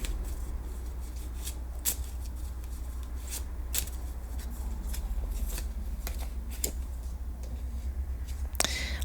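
Tarot cards being shuffled by hand during a reading, a soft continuous riffle and rub with several sharper card snaps and slaps standing out, close and fairly quiet, with no talking.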